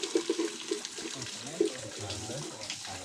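Cold water from a mountain spring in El Salvador pours and splashes into a container, a continuous burbling stream heard close while people talk nearby.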